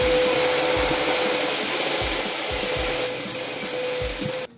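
A portable PowerHouse 3-in-1 wet and dry vacuum cleaner runs with a steady high-pitched whine and loud airflow rush as it sucks up sawdust. Low thumps break in now and then, and the motor cuts off abruptly at the end.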